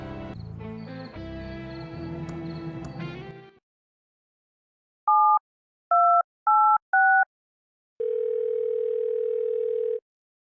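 In the Thimbleweed Park video game, a telephone dial tone and dialing play: music fades out, then four short dual-tone dialing beeps sound, followed by a steady, clean dial tone lasting about two seconds.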